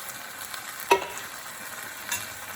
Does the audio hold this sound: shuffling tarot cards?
no